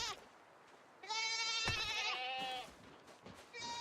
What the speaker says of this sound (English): the goats are noisy